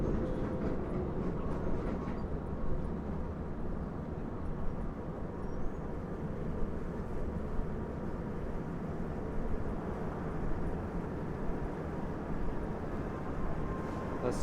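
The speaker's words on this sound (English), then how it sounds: "At least the subway is still running." A New York City subway train running underground, a continuous loud low rumble with rail roar that stays steady throughout, with no voices.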